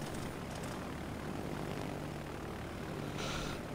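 Bomber aircraft engines in a naval combat video game hold a steady, low droning rumble throughout, with a faint brighter hiss rising near the end.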